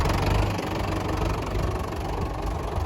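A Fordson Major tractor pulling a Weeks trailer runs nearby with a steady, loud, low engine chug throughout, with no talking over it.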